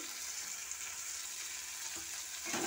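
Okra and egg with ginger paste frying in a little oil in a pan, a steady close sizzle running throughout with faint stirring scrapes near the end.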